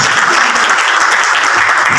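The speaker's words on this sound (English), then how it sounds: "Let's give him a Nigerian round of applause." Audience at a private-sector partnership event applauding loudly and continuously, a dense close wash of many hands clapping throughout.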